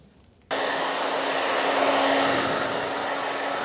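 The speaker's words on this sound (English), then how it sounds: "now I'm ready to blow dry" A hair dryer switches on abruptly and blows steadily while styling a woman's hair, giving a loud, even whoosh with a faint steady whine that runs to the end without a pause.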